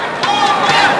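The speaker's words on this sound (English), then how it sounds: "The crowd are really into this now." A large badminton crowd at a World Championships men's singles semi-final roars and cheers loudly in a dense, sustained wash of voices.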